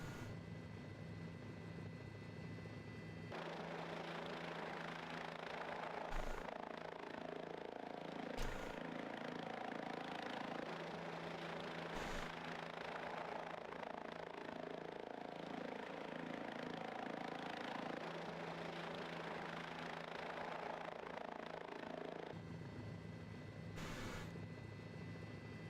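A simulated aircraft engine in Flight Simulator 2004 drones on as a steady, faint mechanical hum that keeps running even though the engine is being shut off, with occasional clicks and brief level shifts.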